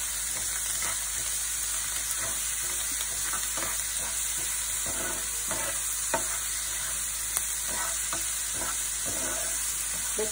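Soaked chana dal and lentils fry in a pan with a loud, constant close-up sizzle and regular spatula scrapes and taps throughout.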